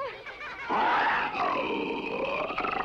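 A lion gives a deep, drawn-out roar that rumbles for a few seconds, rising and fading with a growling texture.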